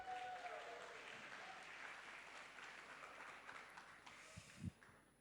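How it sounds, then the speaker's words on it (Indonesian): Faint, distant applause from an audience at a campus edutainment talk, a thin steady patter of clapping that fades, followed by a couple of brief knocks near the end. "Tepuk tangan yang meriah untuk teman-teman semuanya."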